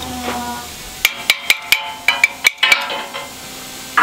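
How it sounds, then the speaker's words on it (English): Several sharp metallic strikes in quick, uneven succession as a hammer hits metal while adjusting a trawler's rudder, close and fairly loud, with short ringing decays between hits. "That's the wrong hammer for that job."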